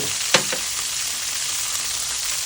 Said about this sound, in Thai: ตั้งกระทะ ใส่น้ำมัน ใส่เต้าหู้ หมูสับ